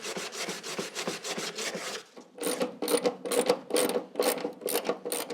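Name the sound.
removing the last fender bolt on an MGA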